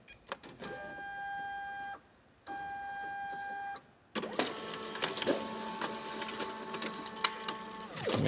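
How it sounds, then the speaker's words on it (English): A Samsung CLX-6260FW printer runs a copy job, humming and whirring with steady mechanical tones, a brief stop, then a louder rush of feeding and rolling noise near at hand. "I'm trying to make a copy from that side."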